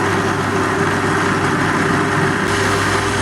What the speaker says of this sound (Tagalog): atin na siyang i-blend or uh, kung naka-food processor kayo, diretso na